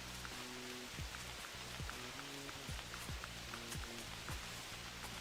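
Steady rain in theHunter Classic hunting game, a constant hiss of drops spattering on surfaces, even and moderately loud throughout, with faint rhythmic low tones running underneath and no talking.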